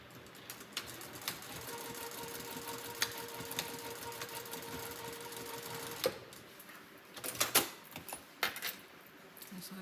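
A sewing machine stitches together a fabric liner for a small Longaberger road trip basket, fixing a button in place. It hums quietly and steadily, with scattered clicks and jangling handling noises.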